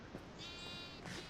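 Sheep in the video game Minecraft bleat twice in quick succession, a faint wavering call with a slight pause between the two.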